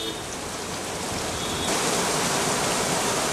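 Heavy rain and rushing floodwater in Uttarakhand form a dense, steady roar of broadband noise that swells slightly louder partway through, with no voices.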